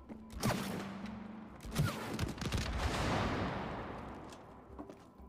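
Gunfire in the co-op video game It Takes Two, with dense overlapping shots and thuds in rapid, rolling bursts that stay loud and busy throughout.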